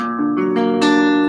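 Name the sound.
guitar playing a rhythm chord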